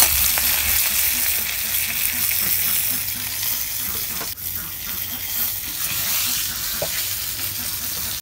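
Chicken fry sizzling in a pan, a continuous close crackling hiss with light stirring scrapes and a brief clatter midway, no talk.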